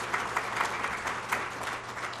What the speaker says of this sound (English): please give a round of applause to the staff